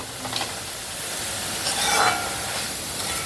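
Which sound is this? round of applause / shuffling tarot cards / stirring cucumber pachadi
stirring cucumber pachadi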